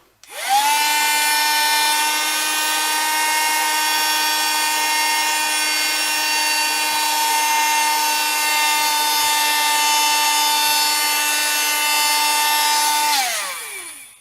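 A Woodland Scenics Model-Vac hobby vacuum sucks up coarse model turf: a steady, high-pitched motor whine that runs unbroken for about thirteen seconds, then winds down. No voices.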